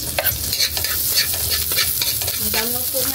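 Onions sizzling in a cooking pot for pork menudo. A loud, constant sizzle is broken by scraping stir strokes, heard close with no voices.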